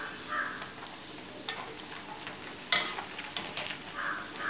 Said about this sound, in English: We will fry them well until they turn light golden brown and become crispy